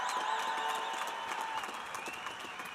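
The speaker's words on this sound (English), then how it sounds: "I think that in and of itself deserves a round of applause." A crowd at a college of engineering spring commencement ceremony breaks into applause that rises and tapers over a few seconds, with cheering voices mixed into the clapping.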